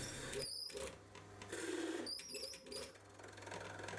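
A mini lathe turning and cutting steel with an insert tool, a faint steady motor hum with intermittent high squealing bursts from the cut, heard from close by without speech.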